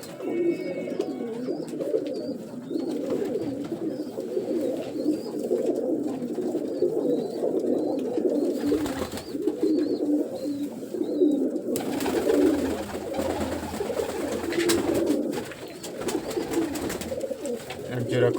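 Pet pigeons coo in a loft, a continuous chorus of soft, throaty rolling calls close by, with occasional handling bumps and rustles.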